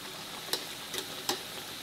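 Poori frying in hot oil, pressed gently at the edges with a spoon: a steady low sizzle with three brief sharper crackles, close and quiet.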